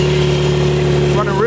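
Car engine running steadily at idle, a close, loud droning hum with a constant low tone, while someone talks over it near the end.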